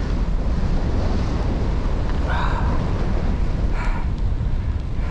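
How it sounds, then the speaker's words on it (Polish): Strong icy wind on open ground roars and buffets continuously against the microphone, loud and blustery, with faint brief voice-like sounds barely audible beneath. "tutaj na otwartej przestrzeni lodowate to wiatrzysko"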